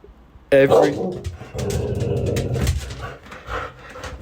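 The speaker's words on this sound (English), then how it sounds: "Hey, what are you barking about?" A dog barks sharply once up close, followed by rough, muffled vocal sounds and a voice speaking nearby.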